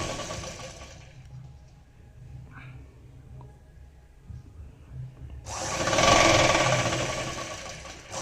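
A sewing machine stitching the lining of a suit, with a steady mechanical whir that starts, fades to quiet handling, then returns louder near the end.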